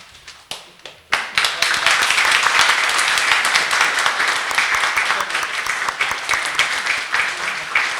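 A few scattered claps swell into warm, full welcome applause as flowers are presented to the mayor at a Paju forestry successors' association gathering, holding steady and close for several seconds before thinning slightly.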